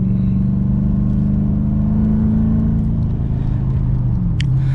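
A VT 5-litre car engine hums loudly and steadily from inside the cabin, a deep low drone that shifts slightly in pitch as the vehicle drives.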